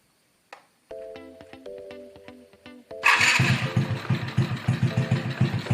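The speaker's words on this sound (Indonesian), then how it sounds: "Untuk menyetelnya, kita nyalakan motor." A few clicks and a brief cranking whir, then a carbureted motorcycle engine catches and settles into a steady, slightly uneven idle close by.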